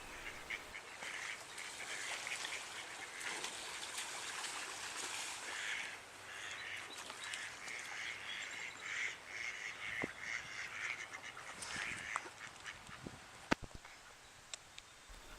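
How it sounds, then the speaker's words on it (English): Mallard ducks quack faintly in a lagoon marsh under a constant watery hiss, with scattered short calls over about fifteen seconds. "The female mallard is the one with the loud quack."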